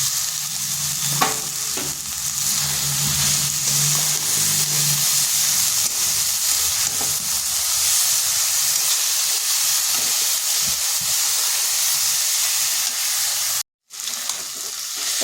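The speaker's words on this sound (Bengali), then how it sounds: "এই সজনে ফুলটা একটু সময় ধরে ভাজতে হবে" Drumstick flowers with turmeric frying in a pan give off a loud, continuous sizzle and hiss up close. It carries on steadily with faint stirring, then cuts out briefly near the end.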